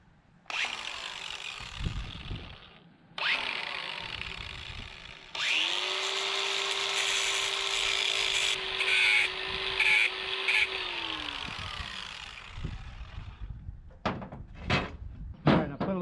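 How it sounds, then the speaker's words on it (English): Angle grinder grinding steel flat on the blade tilt part of a Cat D3G bulldozer during a hydraulic repair, in several sustained loud bursts with spin-up and wind-down, then brief clanks of metal handling. "now we need to cut that off. Grind that flat"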